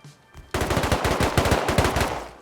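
Automatic gunfire in the survival video game Rust: after a quiet moment, a rapid, loud burst of shots rattles on steadily for about two seconds, with no speech over it.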